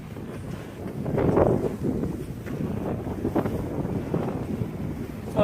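Wind blowing outdoors near the water, rough gusty buffeting on the microphone that swells and eases in uneven waves, loud and continuous with no speech.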